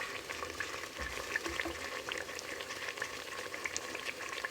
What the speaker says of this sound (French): Voilà mes amis, la viande est en train de cuire